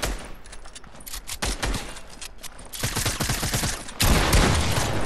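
Rapid bursts of gunfire ring out in a shooter video game, dense volleys of sharp shots in quick succession that grow heavier toward the end, loud and close.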